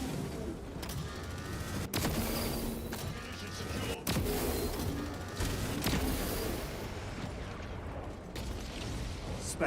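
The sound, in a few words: lascannon gunfire from the video game Space Marine 2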